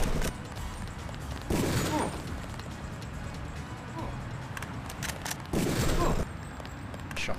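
Gunfire in a Deus Ex gunfight, bursts of close, loud shots and impacts with repeated blasts around two and six seconds, over continuous game noise.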